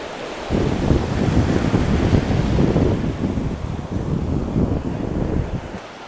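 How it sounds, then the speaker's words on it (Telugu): Sea waves break at Rushikonda Beach in Vizag, a loud, steady roar of surf blended with gusting wind noise on the microphone, continuous throughout with no talk. "అలలు అయితే చిన్న చిన్న అలలు వస్తున్నాయి, పెద్ద పెద్ద అలలు వస్తున్నాయి"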